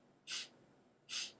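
Two short, sharp inhales drawn in through the nose during a guided breathing exercise, each a quick breathy rush separated by a pause, close and alone in a quiet room.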